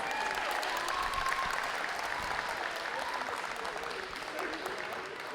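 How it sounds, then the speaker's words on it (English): Steady, sustained applause from a seated crowd at a college graduation ceremony, a dense patter of many hands clapping at even loudness throughout. "Let's give yourselves a round of applause"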